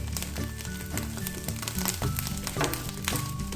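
Dried fish sizzles in a frying pan while being turned over, a steady dense crackle of hot oil with occasional scraping clicks of the pieces being flipped.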